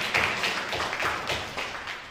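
Church congregation applauding, a steady patter of many hands clapping together, moderately close and fading slightly toward the end.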